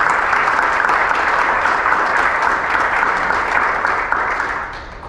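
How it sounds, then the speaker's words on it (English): Warm, sustained applause from guests at a 100th anniversary celebration, full and even before tapering off slightly at the end. "Could we all give those a round of applause?"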